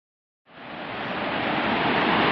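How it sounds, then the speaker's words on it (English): Laurel Creek Falls plunging over 100 feet, heard from the top as a broad, steady roar of rushing water that rises abruptly out of silence and stays loud and constant. "here we are at the top of Laurel Creek Falls, where it plummets over 100 feet down"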